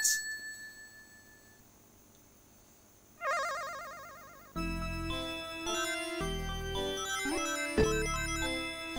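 A mobile phone rings: a short electronic trill, then a bright, loud melodic ringtone that repeats steadily, with no talking over it.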